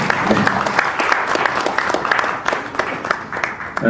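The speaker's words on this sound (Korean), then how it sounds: "박수 많이 주시죠." Studio audience at a televised event supporting cancer patients claps warmly to welcome a singer to the stage, a dense, steady round of hand-claps close by for about four seconds, with faint talk underneath.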